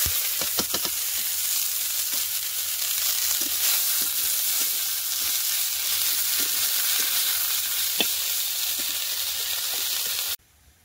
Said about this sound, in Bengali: ব্রাহ্মী শাক আলু দিয়ে ভাজা করব।